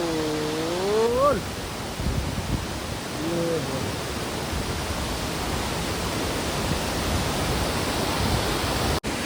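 Roar of the large Bhelughat waterfall in Dokmoka, Karbi Anglong, Assam, a steady broadband rush of falling water, loud and close throughout, with a few brief voiced cries near the start.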